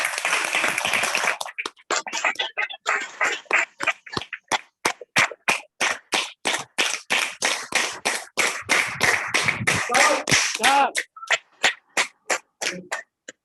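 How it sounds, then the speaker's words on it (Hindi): An audience at a training seminar gives an invited speaker loud applause that turns into rhythmic unison clapping, with sharp, evenly spaced claps that speed up and then slow before stopping. "उनके सम्मान में एक बार जबरदस्त दोस्तों तालियां बजाएं"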